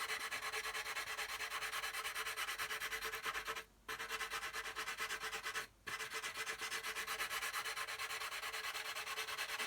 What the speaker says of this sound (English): Now we can come in with this is my 220 grit.